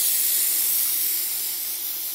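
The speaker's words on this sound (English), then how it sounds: "And we're gonna release the steam in a quick release." A pressure cooker vents its steam in a quick release, giving a loud, continuous high hiss up close that eases off only slightly over a couple of seconds.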